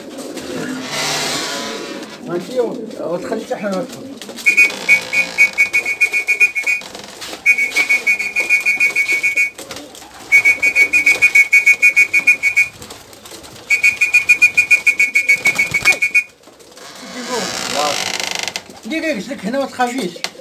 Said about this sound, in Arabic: واجيو معنا تشوفوا الحمام بطريقه الوكله ديالو